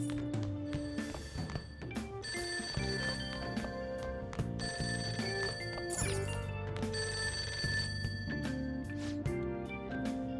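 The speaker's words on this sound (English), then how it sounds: "That ringing sound isn't coming from my cell phone. I hear it coming from downstairs." A telephone rings downstairs in the Persona 5 video game, a steady repeating electronic ring heard over layered in-game music that keeps playing throughout.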